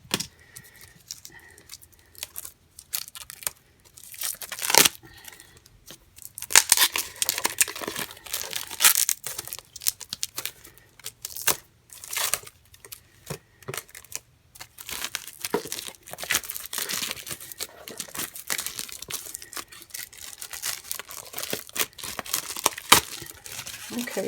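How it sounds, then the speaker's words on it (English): Plastic wrap on a Piccadilly dot grid notebook being cut and peeled away, with bursts of crinkling, crackling and tearing that start and stop irregularly at close range, with no talking. "I'm going to take the plastic off"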